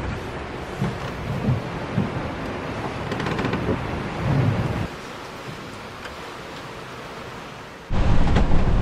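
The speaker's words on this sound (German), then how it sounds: "Wirklich sehr windig. Und regnerisch natürlich." Strong wind and rain on a sailboat in the Caribbean, a loud, continuous roar of gusts and spray with rumbling low surges, ending in a sharp burst of heavier wind.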